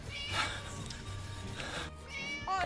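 A cat meows and caterwauls in Scary Teacher 3D: several drawn-out, wavering yowls over a low game rumble, fairly close, with a sharper, higher cry near the end.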